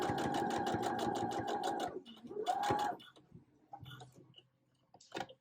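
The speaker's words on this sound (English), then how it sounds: "Making sure it lays flat as I'm sewing." Stitching a hoodie seam, a sewing machine runs in a fast, rhythmic close-up burst for about two seconds, pauses, then runs briefly again, followed by quieter clicks and fabric handling.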